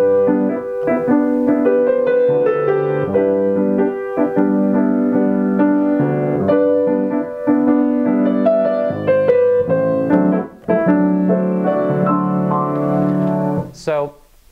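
Orchestral excerpt with Cuban elements from the opera Before Night Falls, a sustained harmonic melody with shifting chords and rhythmic accents, steady and full, ending with a brief bright rising tone.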